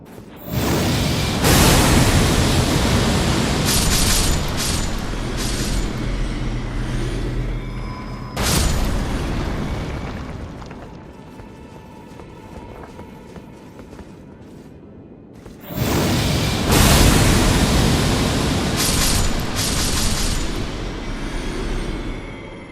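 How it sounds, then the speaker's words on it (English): Exploding enemies in Elden Ring: Shadow of the Erdtree, with loud booming blasts and whooshing bursts in two long waves, separated by a quieter stretch of rumbling debris and rattling. "it is full of these exploding enemies"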